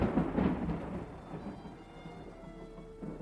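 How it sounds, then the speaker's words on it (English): Thunder rumbles through a winter storm with rain falling, a deep rolling boom that swells at the start and slowly fades into a softer, steady downpour. "The storm seemed to be moving nearer again, the intervals between the light and the sound growing shorter."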